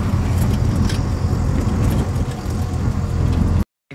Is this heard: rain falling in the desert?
no